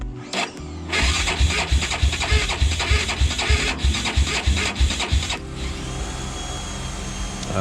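A Honda 400EX ATV engine fires up for the first time on a new carburetor, a loud rough idle with a rapid, uneven pulsing beat that runs steadily before dropping to a quieter settled tone, with no talking.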